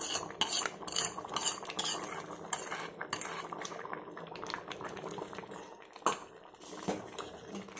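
Vegetable kootu bubbling in a pot after a tempering of oil, mustard seeds and asafoetida, with frequent metallic clinks of a ladle and utensils against the vessel over the steady simmer.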